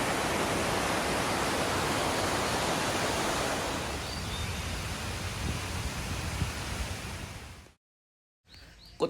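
Oryeon waterfall in Seoraksan National Park, heard from a hiking trail beside it: a steady, loud broadband rush of falling water that softens somewhat midway, then cuts out briefly near the end before resuming.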